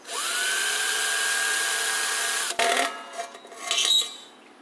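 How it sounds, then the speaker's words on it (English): A steady, loud drill whine runs for a couple of seconds as it bores into a tin-can forge casing, then cuts out into clatter and scraping of metal being handled up close. "and then drill."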